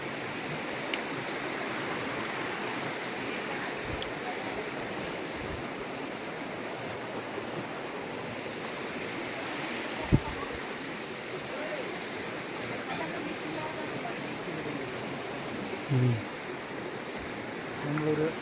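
River water falls and rushes over the rocky Sahasra Linga riverbed near Sirsi, a constant broadband roar heard nearby, with a few brief knocks and thumps along the way.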